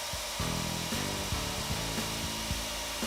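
Bi-metal hole saw driven by a handheld drill cutting into a workpiece, a steady close grinding and rasping whine with a few brief surges, alone without talk.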